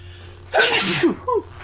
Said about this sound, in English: Good old sneeze to break up the monotony.